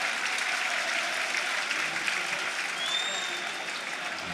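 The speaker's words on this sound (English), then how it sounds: "Neil Harris is all claps and hugs down below as the players head for the dugout" Steady applause and crowd noise fill a football stadium as substituted players leave the pitch during a Millwall versus Leeds United evening match, sustained and even throughout with no break.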